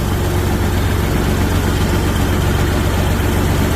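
A 1972 John Deere 4320 tractor runs in reverse at low throttle, its diesel engine giving a loud, steady, deep rumble with an even throb and no talk over it.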